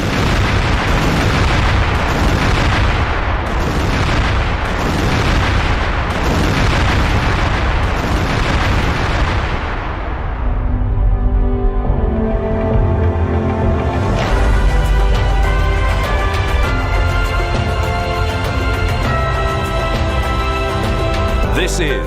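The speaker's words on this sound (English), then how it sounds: "This is the moment that Israeli airstrikes" Israeli airstrikes on Iran produce a rapid run of loud, deep booms in steady succession, then the blasts give way to a sustained rumbling roar with ringing tonal layers.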